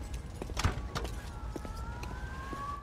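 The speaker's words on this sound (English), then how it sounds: "He had the sirens in the background." A wailing police siren in the video game Mafia 2 sweeps up and down in the background, steady and somewhat distant beneath a dense, rumbling ambience.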